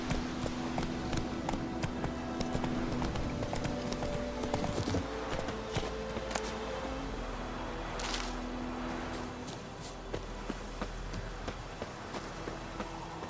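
Horse hooves clip-clop at a steady galloping rhythm in The Witcher 3: Wild Hunt, close and continuous across the ride, with soft gear and ambient game sounds underneath.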